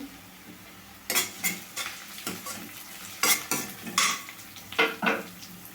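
Curry leaves and onion pieces with a pinch of salt fry in hot oil in a pan while a spoon stirs and scrapes in quick, irregular strokes over a soft, constant sizzle, close by with no voices.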